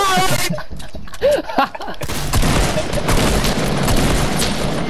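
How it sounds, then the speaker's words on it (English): Gunfire from a hunting rifle in a video game cracks amid excited shouting and chatter, a few sharp reports in the first seconds, then dense noisy game action under the voices. "Nathan, that shot was incredible"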